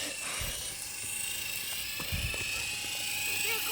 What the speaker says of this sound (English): we're getting chased by a helicopter